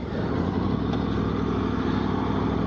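A motorcycle engine drones steadily and loudly, a continuous even rumble with no breaks or revving.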